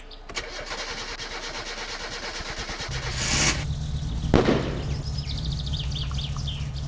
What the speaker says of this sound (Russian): давайте заведем тогда тачку.